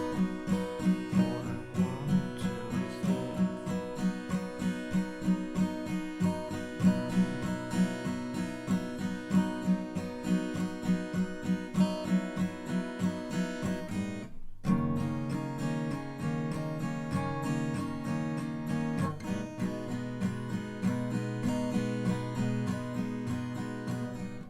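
Guitar plays the intro of a song as a steady strummed pattern throughout, with a brief pause partway before the strumming resumes, heard alone without any talking.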